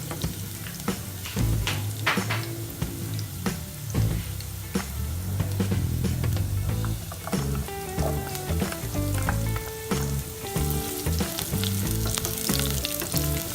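Onions sautéing in a pan for pork humba, a steady loud sizzle and crackle with frequent scraping and stirring clatter throughout, no voices.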